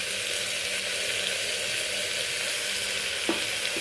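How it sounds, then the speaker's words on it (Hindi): Masala sizzles steadily in a hot pan as turmeric goes in, a dense close frying hiss with one short utensil knock near the end. "थोड़ी देर भूनने दूँगी, उसके बाद मैं एक एक करके इसमें मसाला ऐड करूँगी।"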